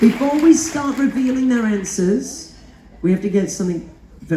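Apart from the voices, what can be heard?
No everyday noises stand out.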